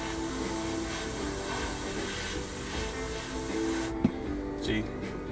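An airbrush hisses steadily as it sprays green paint onto a 1/32 scale P-40E Warhawk model, a continuous close spray that cuts off near the end, followed by faint clicks.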